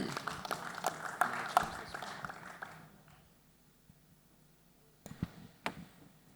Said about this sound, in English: please give a warm round of applause to our panelists for the last panel of the day